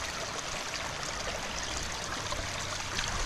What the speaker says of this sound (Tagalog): Ang lakas ng tubig, ano?